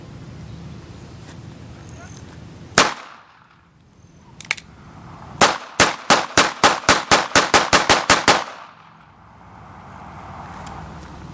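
Shots from a real USP pistol: a single sharp report, a quieter pop, then a rapid string of about twelve loud shots, each with a short echo, over faint outdoor background noise.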